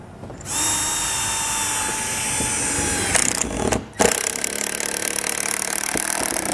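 A power drill drives screws into a wood strip during a roof vent fan installation, whining steadily up close for a few seconds, pausing briefly, then running again with a rougher, rattling tone.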